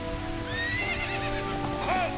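A big black horse ridden by Ganondorf in Zelda: Ocarina of Time gives a loud, drawn-out neigh with a rising, wavering whinny, then a shorter second whinny near the end over steady game music.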